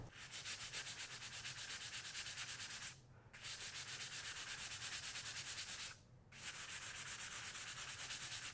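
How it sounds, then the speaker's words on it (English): Sandpaper rubs lightly back and forth over a ridge in chalk paint on a dresser, a close, steady rhythmic scratching in three runs separated by two short pauses. "I'm going to lightly sand that and then go ahead and move on to my third coat of paint"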